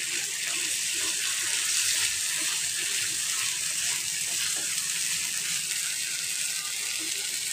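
Sizzling and hissing from a pan of besan and spinach as water is added, a steady bubbling, frying texture heard close up without talk.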